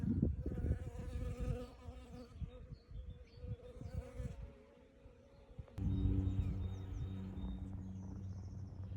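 Dense, close buzzing of many bees around a hive, a droning hum with rising and falling swells, growing louder and fuller in the second half.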